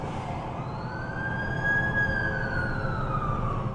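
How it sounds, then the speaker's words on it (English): A wailing ambulance siren in The Amazing Spider-Man 2 video game rises and falls steadily over a low rumble of city traffic, loud and fairly close. "That's the ambulance I called."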